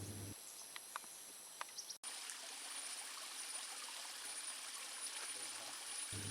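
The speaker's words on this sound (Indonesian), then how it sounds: "Gemercik air sungai yang muaranya menuju Sungai Langsa mengalir perlahan" A rainforest stream trickles and burbles gently and steadily. Faint insects chirp in the background, and after a brief cut near the start the water carries on alone without any talk.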